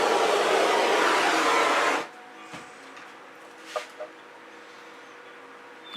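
A handheld torch roars steadily over fluid acrylic paint for about two seconds, then cuts off abruptly, leaving quiet room tone with a few faint clicks.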